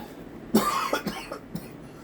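One harsh cough rings out close up, followed by a few smaller rough throaty coughs trailing off.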